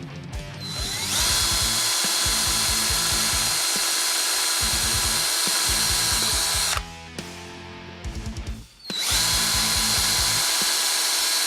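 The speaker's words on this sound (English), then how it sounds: "I'm going to drill the holes in there and put the screws in so it doesn't fall out when I pull on it." A power drill bores screw holes into a hand suction plunger, its high whine running in long bursts, cutting out briefly twice and then starting up again, close and loud with no talking.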